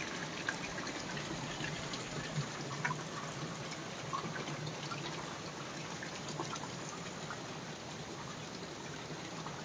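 Water at the source of the Meena river by a Shiv temple flows continuously, a faint, even trickling wash that holds steady throughout with no voices over it.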